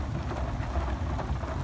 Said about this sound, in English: Still thundering, I can hear